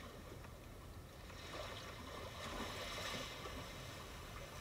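Calm ocean wave nature sounds played through a Kia Sorento PHEV infotainment system, a soft steady wash of water swelling gently, quiet and continuous.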